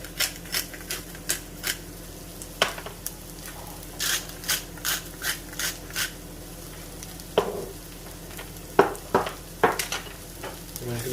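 A spoon works through lentil pasta sauce with cumin, Italian seasoning, salt and pepper in a pan, giving repeated short scraping strokes in uneven bursts, close and fairly loud, with a quiet cooking hiss underneath.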